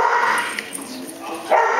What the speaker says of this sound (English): Oh my goodness, so many puppies.